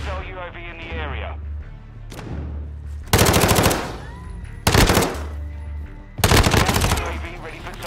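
MP5 submachine gun fire in Modern Warfare 2, loud automatic bursts at about three seconds, five seconds and six seconds, separated by a low game hum and other in-game sounds.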